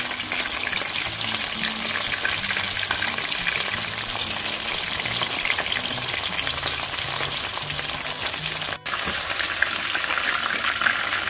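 Prawns fry in hot olive oil with a dense, steady sizzle and crackle that runs close and loud throughout, with one brief break near the end.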